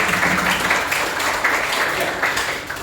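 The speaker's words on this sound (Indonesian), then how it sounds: "Berikan tepuk tangan untuk." Students applaud a classmate in a classroom. The clapping is fairly close and continuous for a few seconds, with a loose, repeating rhythm that sounds like rhythmic group clapping.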